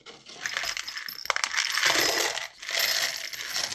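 Rusty metal bolts and screws rattle and clink inside a container, a dense continuous jangle with a few sharper clanks, pausing briefly before shaking again, close and loud.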